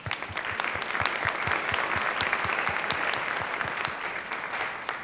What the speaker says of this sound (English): So special applause to them.